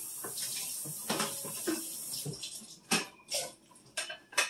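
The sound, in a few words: tap water rinsing a cutting board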